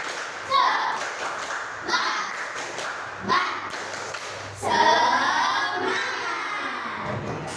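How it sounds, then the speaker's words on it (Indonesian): Schoolchildren in a classroom do a rhythmic spirit clap, with loud group claps and thumps recurring at regular intervals amid children's voices and shouting. "Ya, tepuk semangat."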